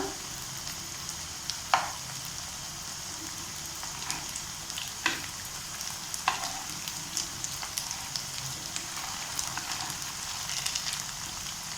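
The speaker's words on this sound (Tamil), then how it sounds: "டீப் ஃப்ரை பண்ணால் போதும்." Samba broken wheat cutlets deep frying in hot oil give a close, continuous sizzle, broken by scattered sharp pops and crackles and the odd soft stir.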